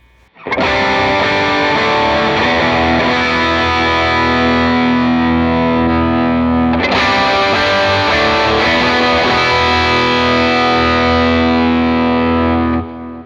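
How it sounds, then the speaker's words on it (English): Loud overdriven electric guitar chords through a higher-gain Tube Screamer and cab impulse responses on a modeler ring out, one sustained strum followed by a second, thick with distortion and long sustain. "what we're going to show you is a tube screamer, so just a bit higher gain"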